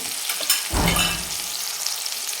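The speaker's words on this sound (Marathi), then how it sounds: "मीठ टाकले म्हणजे पटकन आपले हे टोमॅटो परतले जातात" Tomatoes with half a spoon of salt frying in a pan, a quiet hiss that swells into a louder, close sizzle with stirring for about a second before settling back to a soft steady frying.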